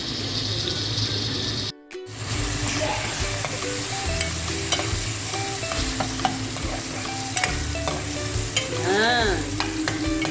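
Eggplant sautés in a pan with garlic and onion, a loud continuous sizzle with frequent scraping and stirring clatter close by, briefly cutting out near the start before resuming.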